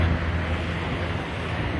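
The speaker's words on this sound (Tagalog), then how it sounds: "Ang lakas pa ng hangin." Steady strong wind buffeting the microphone on an Arizona mountain, a dense continuous roar with low rumbling gusts and no voices.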